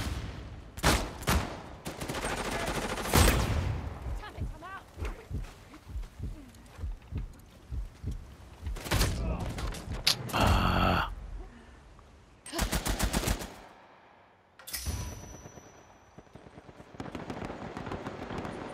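Rapid bursts of video game gunfire in an Uncharted: The Lost Legacy King of the Hill multiplayer match, with loud automatic volleys and single shots repeating throughout, some sharp and close, others clipped, with brief pauses between.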